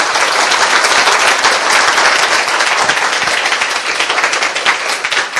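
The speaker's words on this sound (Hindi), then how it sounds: "आइए उस बीज के लिए ताली बजाएं" A church congregation claps together during a sermon, loud, dense, sustained applause filling the room at an even level from start to finish.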